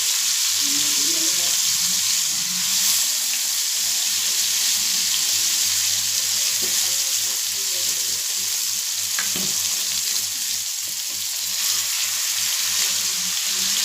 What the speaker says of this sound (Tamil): பொரிக்கிட்டோம், நல்லா பொரிஞ்சு வரட்டும்.